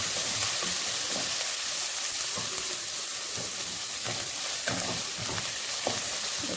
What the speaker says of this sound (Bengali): এবার এর মধ্যে রসুন কুচি আর আদা গ্রেট করে রেখেছি সেটা দিয়ে দিলাম, দিয়ে এটাকে ভাজবো।